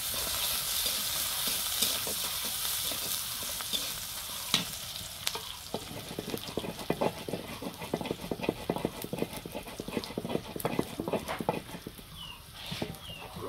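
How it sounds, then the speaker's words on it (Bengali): Oil added to a hot pan for a potato and egg dish, with steady sizzling and frying crackle running throughout, near and moderately loud, with scattered sharp pops and stirring clatter. "আর একটু তেল দিয়ে নিচ্ছি।"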